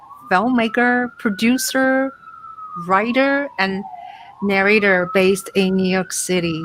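An emergency siren on a New York City street wails steadily in the distance, rising and falling slowly beneath someone speaking close to the microphone.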